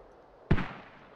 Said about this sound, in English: Mortars shooting everywhere